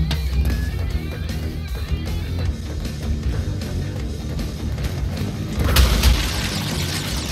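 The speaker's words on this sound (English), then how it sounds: "I just hear fireworks going off outside my window" Fireworks going off outside a window during a New Year's Eve celebration, heard as a steady rumble of distant booms and thuds with a sharper, louder burst near the end.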